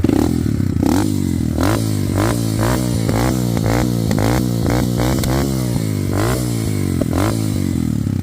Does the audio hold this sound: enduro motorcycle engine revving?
yes